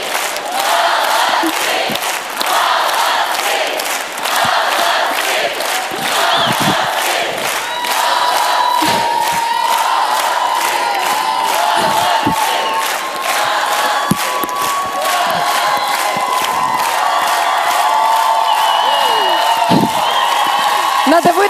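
A large crowd cheers and whoops steadily throughout at an X-Factor semifinal, with applause mixed in and a voice speaking over the din.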